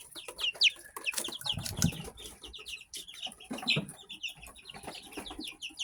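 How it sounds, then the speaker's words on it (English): White leghorn chickens, bigger and faster than the other birds, cluck and chirp in a busy overlapping series of short calls, with a few louder squawks and soft rustling, no voices. "The white leghorns are so fast, and they're a lot bigger than most of the birds."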